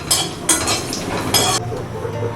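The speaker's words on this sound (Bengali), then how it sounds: "প্রথমে ফোড়নটাকে 30 সেকেন্ডের মতন ভেজে নিতে হবে।" Whole cumin, a dried red chilli and a bay leaf fry in hot oil in a pan, giving a soft sizzle punctuated by a few sharp scraping bursts of a spatula stirring against the metal.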